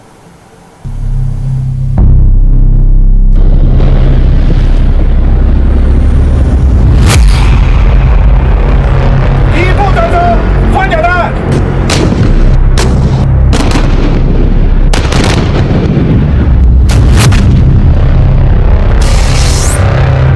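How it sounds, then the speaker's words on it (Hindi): Loud booming artillery fire and explosions from a military exercise, with repeated heavy blasts and sharp cracks over a constant rumbling roar. "इस रिपोर्ट में बहुत गोला बारूद है, बहुत से धमाके भी हैं।"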